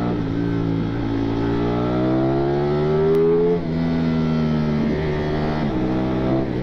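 Ducati Streetfighter V4S motorcycle engine revving up and holding high, its harmonic tone rising steadily then dipping and climbing again, loud and close with no talk over it.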